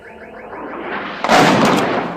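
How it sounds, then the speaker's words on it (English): An incoming Hamas missile rushes in with a rising whoosh that swells over about a second, then bursts into a loud, broad roar of impact. "This is what Hamas missiles sound like before impact."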